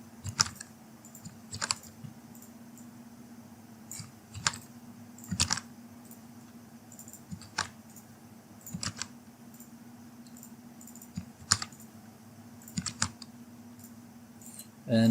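Keys on a computer keyboard click in short, scattered bursts with pauses between them while network details are filled in, close and fairly quiet over a steady low hum.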